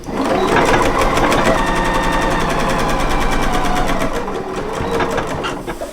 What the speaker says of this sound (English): So now I'm going to do one more row of top stitching, 3/8 of an inch inside of that one.